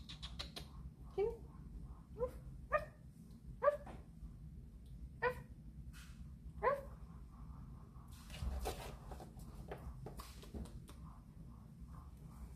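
A puppy yips and barks in short, spaced bursts, then whimpers and whines more softly, close by in a quiet room while a person talks gently to it.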